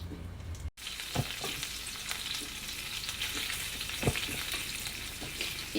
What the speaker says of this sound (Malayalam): ഒരു പാനിൽ ബട്ടർ ഒഴിച്ചിരിക്കുക എന്നിട്ട് നമ്മുടെ ഈ പുഴുങ്ങി വെച്ച ചിക്കൻ ഇല്ലേ ഇതൊന്ന് നമുക്ക് ഈ ബട്ടറിലിട്ടിട്ട് ഒന്ന് ജസ്റ്റ് വാട്ടി പൊരിച്ചെടുക്കണം